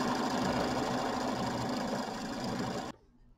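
A sewing machine quilting a little stars pattern hums in a fast, continuous mechanical rattle at close range, then stops abruptly near the end, leaving near silence.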